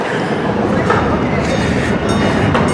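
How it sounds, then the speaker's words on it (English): A train rumbles past close by in a street setting, loud and continuous, with rolling rail clatter and faint clicks across the whole stretch and no pauses. "There's a train."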